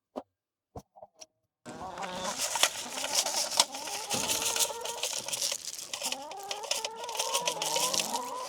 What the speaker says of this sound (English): the guinea fowl can hear food